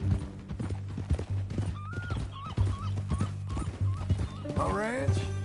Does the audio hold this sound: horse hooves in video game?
yes